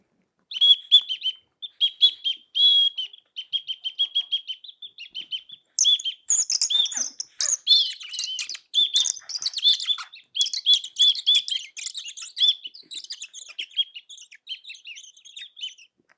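White sparrows chirping in quick, high, repeated bursts that grow busier and overlap, bright and close with no other sounds.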